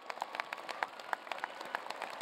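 An audience at an engineering school commencement ceremony applauds the staff, with thin, scattered clapping heard at a distance, uneven and fairly faint over a couple of seconds.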